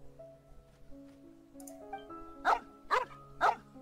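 A puppy barks three times in quick succession inside Genshin Impact, sharp yaps standing out over the game's soft background music.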